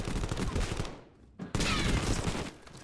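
Submachine gun fire in a first-person shooter game: a fast, dense stream of loud shots that cuts out briefly into near-silence, then resumes with another sustained burst.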